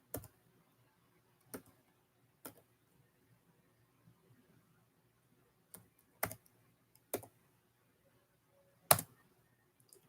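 Sparse keystrokes on a computer keyboard sound as sharp, isolated clicks, about eight of them at irregular intervals, close and fairly quiet against a near-silent background.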